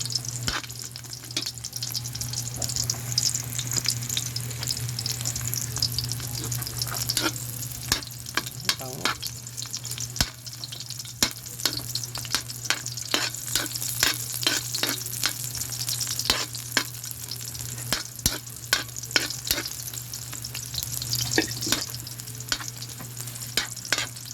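Onion and garlic sauté in a pan for adobong sitaw with kalabasa, a constant crackling sizzle punctuated by frequent sharp stirring scrapes and clinks, close up and with no talk.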